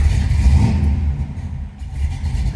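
A 1966 Ford Galaxie 500 with its 7-litre 428 V8 is fired up and revved, a loud, close, deep engine roar that swells and briefly dips before rising again; no one speaks.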